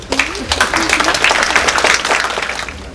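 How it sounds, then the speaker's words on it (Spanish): An audience at an evening World Water Day talk at a Peruvian university claps, a dense sustained round of applause for about three seconds, fairly close, with a voice briefly audible at the start. "Lo recibimos con un fuerte aplauso."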